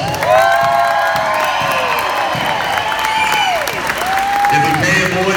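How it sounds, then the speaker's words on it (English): Crowd at a youth wrestling championship applauding and cheering for young wrestlers, loud sustained clapping mixed with whoops and shouts, and a voice carrying over the noise. "All right, guys, everybody give these young kids a round of applause."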